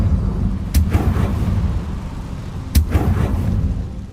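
Confringo fire spell blasts in the Hogwarts Legacy game, two sharp booming explosions a couple of seconds apart over a loud rumbling background.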